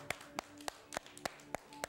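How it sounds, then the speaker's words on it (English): Children in a story-hour group clapping their hands loudly, a series of about seven sharp claps at a steady rhythm, close and distinct, with no talking over them. "Clap your hands. Can you clap loudly?"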